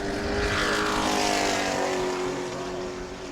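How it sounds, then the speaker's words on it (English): A Sportsman-class race car runs a solo qualifying lap at New Smyrna, its engine a steady loud drone that holds close throughout, with a broad sweeping whine that rises and falls as it passes. "Adam Briggs on his flyer here with the track all to himself"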